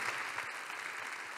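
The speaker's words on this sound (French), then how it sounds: "Vous pouvez les applaudir encore pour leur témoignage" Audience applause at an awards evening panel discussion, a brief steady wash of clapping from a room full of people, moderately loud and continuous with no voices over it.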